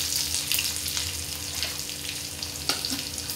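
Green chillies fry in hot oil for tondli bhaji, a steady crackling sizzle running throughout with a few sharper pops, close and fairly quiet with no talk.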